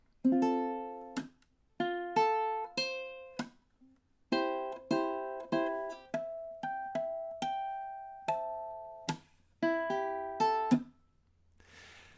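Slow plucked notes on a ukulele, single notes and short phrases with pauses between them, clear and close with no talking.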